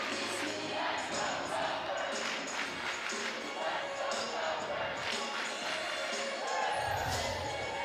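A large crowd of Minnesota fans at a college gymnastics meet cheering and murmuring in a continuous wash of noise, moderately distant, with a commentator talking over it.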